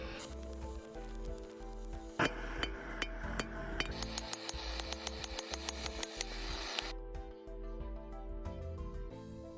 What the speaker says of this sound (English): start to bevel the knife by holding it and hammering it on an angle just on one side